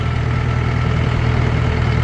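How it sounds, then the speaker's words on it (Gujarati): A large farm tractor idles nearby, its engine giving a loud, steady low rumble that holds unchanged throughout, with no talking over it. "તો ભાઈ આજે આપણો ટ્રેક્ટર બંધ છે ને આ બીજો ટ્રેક્ટર લીધો છે."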